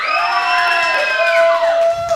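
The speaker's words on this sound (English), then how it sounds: "That's where you cheer." A crowd at a wrestling event lets out loud, sustained cheers, high whoops and shouts rising and falling together, filling the whole moment.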